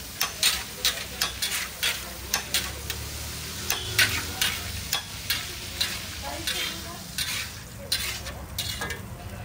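Green fry mixed with butter, green chili, coriander and salt gets stirred on a hot pan, a loud sizzle broken by rapid rhythmic scraping taps of a spatula against metal, close up with no speech.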